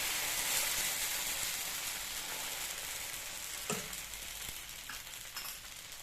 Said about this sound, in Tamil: தோசை கல் காஞ்சிச்சு. இப்போ நம்ம ஊற்றிக்கலாம்.